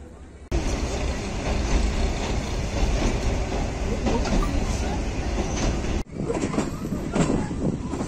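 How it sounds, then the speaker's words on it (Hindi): Green Line Express passenger train crossing Kotli Junction at dead slow speed, a steady loud rumble of wheels and carriages that continues throughout, with a brief dip before the noise resumes. "six down green line express Kotli junction cross कर रही है हमेशा की तरह डेड स्लो स्पीड में"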